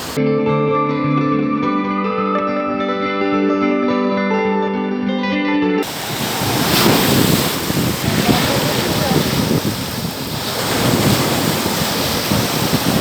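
Sea waves on the beach at Yalova: after several seconds of music, a steady roar of surf takes over, heavy with wind buffeting the microphone.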